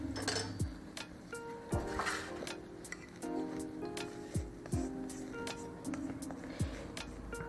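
Chocolate cake batter is moved into a baking pan, with a utensil tapping and scraping against the metal pan in light, repeated clinks and soft plops.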